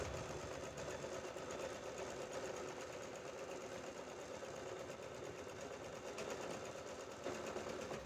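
A sewing machine runs continuously, locking a stitch on a 10-to-12-year-old girl's co-ord set with a pack neck and sleeveless top, a steady, quiet mechanical whir throughout.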